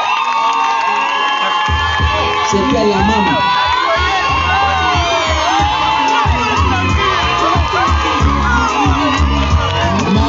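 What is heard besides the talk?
wedding crowd applauding and cheering for the first wife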